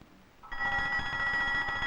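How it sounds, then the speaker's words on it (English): An alarm bell in an office suddenly starts ringing, a loud, steady metallic trill that runs on without a break. "That's the alarm in Tillinger's office."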